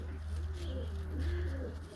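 Young tumbler pigeons cooing softly, a low rolling coo rising and falling over a steady low hum, close by and fairly faint.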